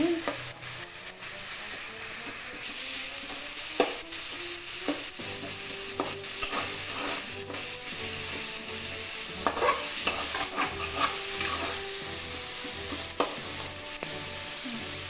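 Tomatoes sizzle and fry in a pan while being stirred and mashed for a Puri-style fish and prawn vegetable mahura. A constant close sizzle runs under repeated scraping and tapping of a spoon against the pan.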